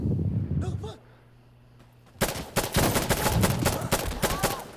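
Gunfire in an online shooter video game, with a quiet gap after a voice, then a sudden burst of rapid, loud shots that continues as a dense rattling volley; talk occurs in the clip.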